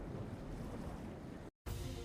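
Ocean waves surging and washing in a steady broadband roar, loud and continuous, with a brief total dropout of silence near the end before the surf resumes.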